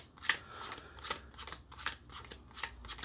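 Playing cards being dealt one at a time onto piles from left to right, a run of soft, quick flicks and slaps spaced about every half second, close and fairly quiet, with no talking.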